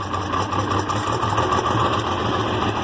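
A Farmall 706 tractor engine runs at low idle on a cold morning, a steady throbbing rumble with a rhythmic low pulse, close and continuous with no one talking.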